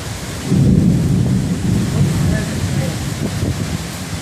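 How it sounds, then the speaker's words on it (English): Thunder rumbles low and heavy after a lightning strike during a severe thunderstorm with a funnel cloud near Batesville, Arkansas, in June 2014. It swells in loud and then rolls on steadily, with rain and wind noise mixed in. "That was a lightning strike."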